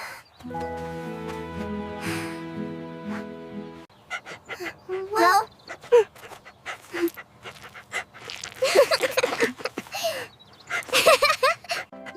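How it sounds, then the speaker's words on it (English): A pet dog pants in quick, close bursts, interspersed with soft whimpers, after having a hurt paw treated at home; a person speaks briefly between the breaths, and a short musical passage plays at the start. "You are a good dog."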